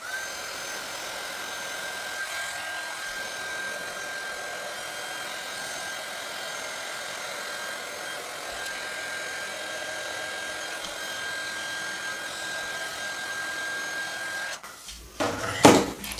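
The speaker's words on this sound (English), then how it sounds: "I'll come back in with my heat tool" A heat embossing tool blows a steady, droning rush of hot air over an ink-blended card for about fourteen seconds, close and constant, then cuts off into a few handling knocks and clatter.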